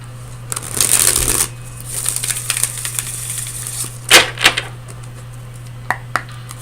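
Tarot cards being shuffled by hand, close crisp riffling and slapping bursts in short irregular clusters over a steady low hum.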